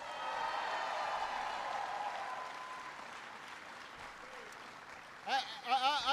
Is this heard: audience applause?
yes